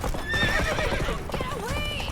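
Roach, Geralt's horse in the video game The Witcher 3, gallops with steady clip-clop hoofbeats and gives whinnying neighs, loud and continuous across the short moment.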